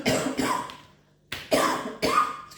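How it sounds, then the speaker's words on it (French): Several harsh, congested coughs from a woman with a lingering cold, close to the mic: a double cough, a pause, then three more sharp bursts in quick succession. "Excusez-moi, je tousse."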